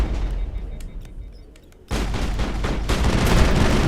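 Gunfire in the video game Mass Effect: a burst of shots, a brief lull, then a sudden loud stretch of sustained, dense firing that swells toward the end.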